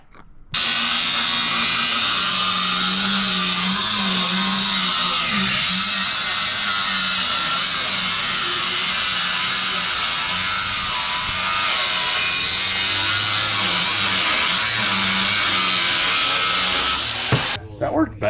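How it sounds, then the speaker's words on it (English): An angle grinder cuts metal on a 1968 big block Dodge Dart GT, a loud, steady, high whine that runs almost without a break for about seventeen seconds, close by, with a voice faintly underneath. "I got another grinder."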